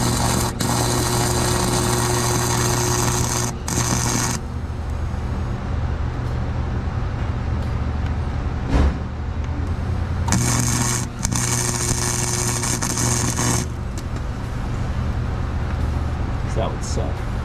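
A welder burning onto seized exhaust manifold bolts on a Chevy Tahoe LS 5.3/6.0, a loud crackling buzz in two long bursts with a steady hum and short breaks between them.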